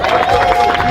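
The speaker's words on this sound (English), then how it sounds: "clap it up for Client FANUM real quick." People clapping and cheering in a brief, loud burst, with crowd noise and voices mixed in and a steady tone running underneath.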